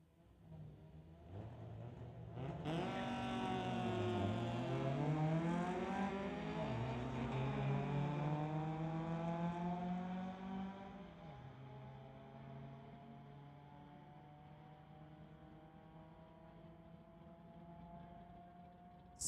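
Two 1993 Honda cars drag racing down a street-legal strip, engines revving up loud and rising in pitch through repeated gear changes, then fading as the cars pull away down the track.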